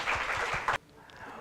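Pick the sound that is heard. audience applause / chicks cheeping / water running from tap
audience applause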